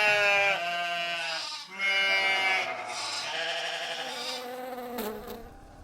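A flock of sheep and goats herded by Gaddi shepherds in Himachal Pradesh bleats continuously, several overlapping wavering calls close by, fairly loud, with no talking.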